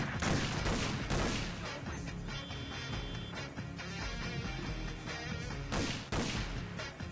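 Rapid rifle gunfire in the shooter game Boiling Point, loud bursts of shots with sharp cracks and echoing blasts, clustered at the start and again near the end, with no talk.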